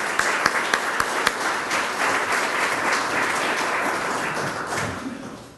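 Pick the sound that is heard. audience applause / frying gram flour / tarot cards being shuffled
audience applause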